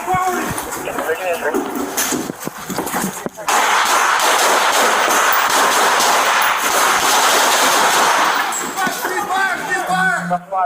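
Gunfire bursts loudly during a rescue drill, with shouting voices at the start, a dense sustained roar through the middle, and voices returning near the end.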